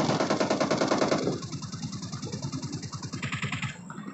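Rapid automatic gunfire from the video game PUBG on its snowy Vikendi map rattles in a fast, even burst, loud at first and then continuing somewhat quieter with sharp, regular shots to the end.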